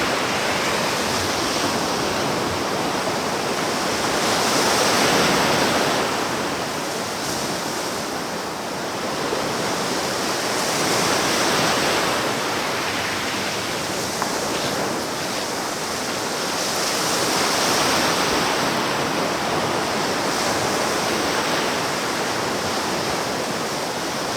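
Ocean waves wash steadily onto a beach at the water's edge, a loud, continuous surf roar that swells and recedes in slow cycles, with no voices.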